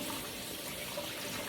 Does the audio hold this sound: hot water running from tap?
yes